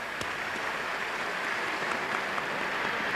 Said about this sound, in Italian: Stefano Ruffini, un applauso.